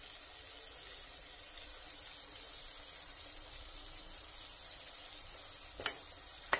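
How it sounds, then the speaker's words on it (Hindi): Turmeric, red chili powder and salt frying in hot oil in a home kitchen, a soft steady sizzle throughout with a couple of sharp clinks near the end, no talking. "अब ये जब तक इसको भूनेंगे तब तक ये थोड़ा सा अपना तेल ना छोड़ दे"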